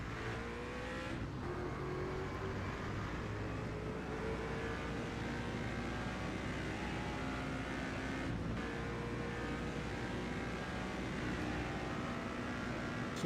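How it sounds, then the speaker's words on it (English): An AMC experimental-engine race car running at Indianapolis during 1978 USAC Indy 500 time trials, its steady engine roar sustained at speed throughout, with no breaks or quiet gaps. "Listen to that engine."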